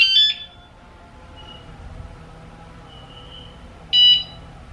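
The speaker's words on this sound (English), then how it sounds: "you heard two beeps" Two short electronic beep bursts from an e-bike alarm arming, one at the start and one near the end, separated by a quiet stretch of low room hum.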